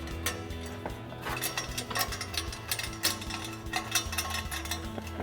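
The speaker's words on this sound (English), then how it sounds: "And then we'll take our 13mm socket to tighten it down." Ratchet wrench with a 13mm socket clicking rapidly as it tightens an exhaust hanger clamp on a Runner RedRock cat-back exhaust, steady close ratcheting strokes over a low mechanical hum, no talking.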